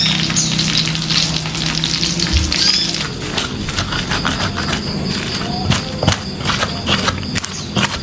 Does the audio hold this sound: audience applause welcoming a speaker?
no